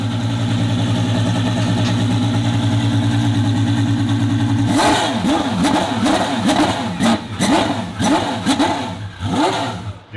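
A twin turbo Ferrari F12 on a dyno idles with a steady drone, then bursts into sharp repeated throttle blips, each rev rising and falling quickly in a choppy, motorcycle-like rhythm, loud and close.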